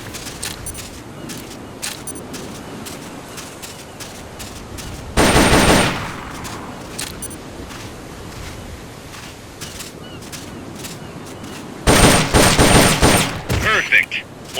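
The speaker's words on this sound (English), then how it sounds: "The M16 is a standard assault rifle," Two short bursts of rapid automatic fire from an M16 assault rifle in Metal Gear Solid Peace Walker, loud and close, separated by quieter in-game ambience.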